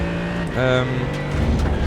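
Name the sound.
Mercedes-AMG GT3 downshifting to first gear in iRacing video game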